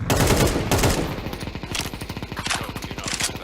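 Gunfire in a tactical shooter video game: loud heavy bursts and blasts, then a long rapid run of automatic fire rattling steadily, close and dense.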